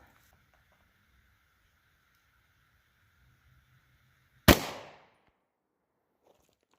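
A single sharp 9mm gunshot firing a Winchester 147 grain hollow point round at close range, a loud isolated crack with a brief decaying tail amid otherwise quiet surroundings.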